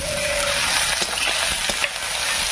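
Chopped tomato and green chili go into a pan of browned frying onions, giving a steady close sizzle with a few soft stirring scrapes over the top.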